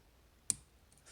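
A lock pick sets a pin inside a Mul-T-Lock MT5+ lock with a single sharp, quiet click, followed by faint rustling in an otherwise hushed setting.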